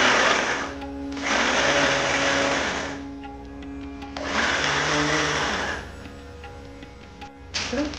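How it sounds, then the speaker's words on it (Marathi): Mixer grinder grinding a filling for shev laddoo, a loud electric whine in bursts that run, pause and restart, with faint background sounds between runs. "पूर्णाला मिक्सरवर बांधून करून घ्यायची।"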